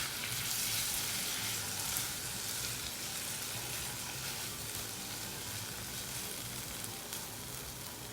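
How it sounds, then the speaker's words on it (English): Masala paste sizzles and fries steadily in a pan after a splash of water goes in, a dense, even crackle that runs loud and close the whole time, with no voices. "This paste has been cooking on a low flame. I'm just going to add a little bit of water right now."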